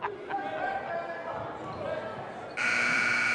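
A loud, sustained basketball buzzer blares over crowd noise and commentary at a varsity boys game, cutting in abruptly near the end and holding steady.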